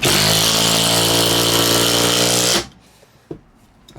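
A Makita 18V compact impact driver runs continuously, loud and close, driving a screw for about two and a half seconds before stopping abruptly, followed by a brief clack and quiet handling noise.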